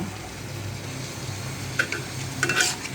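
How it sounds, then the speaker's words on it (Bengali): Meat stir-fries with ginger paste, garlic paste, dried chili powder, turmeric and cumin paste, a quiet, even sizzle with a few sharp spoon scrapes against the pan near the end and no voices. "এখন আমি এটাকে কষিয়ে নেব"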